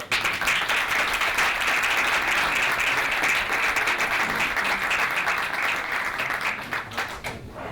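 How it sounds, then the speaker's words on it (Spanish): A seated audience at a Catholic brotherhood talk on the Oración en el Huerto procession applauds steadily, a dense, loud, continuous wash of clapping that holds throughout and tapers slightly at the end. "Un aplauso."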